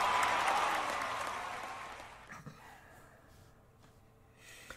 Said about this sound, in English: The crowd is going insane here at Memorial Stadium in Nebraska